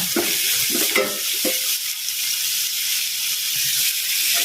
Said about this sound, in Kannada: ಈರುಳ್ಳಿ ಹಾಕಿ ಸ್ವಲ್ಪ ಫ್ರೈ ಆಗಬೇಕಲ್ಲ